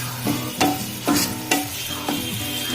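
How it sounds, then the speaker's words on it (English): Lemongrass chicken stir-frying in a pan as it is coated in sauce, with a steady sizzle and a spatula scraping and tossing in four or five distinct strokes about half a second apart, close and fairly loud. "Now I will slowly coat everything in this sauce."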